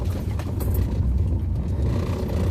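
A car drives with a deep, continuous low rumble of engine and road noise, heard from inside, steady and moderately loud with no voices.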